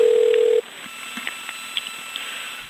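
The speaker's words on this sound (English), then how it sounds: "When they transfer me, boom, the line goes dead." A steady telephone line tone after a call is disconnected, heard loud and alone for about half a second before cutting off, leaving faint line hiss with small clicks.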